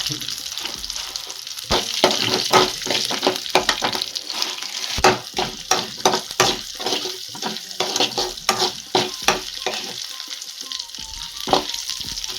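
Cumin, mustard seeds, garlic cloves and urad dal frying in hot oil, a close crackling sizzle punctuated by repeated sharp pops and stirring scrapes in an irregular rhythm.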